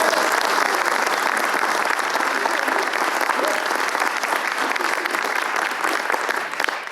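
A dance-event audience at a ballet company's anniversary launch gives a round of applause, a loud sustained patter of many hands that tapers slightly toward the end.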